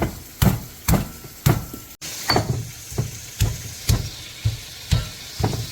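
Turkey meat browning in a pan, a steady sizzle under a series of regular, loud scraping or tapping strokes from stirring, with one sharp break midway and no talking.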